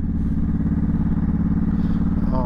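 A motorcycle engine runs steadily with a low, continuous rumble on the first ride of the year on a March evening, close and loud with no pauses.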